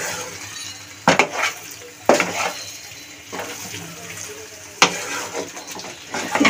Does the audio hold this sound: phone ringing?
no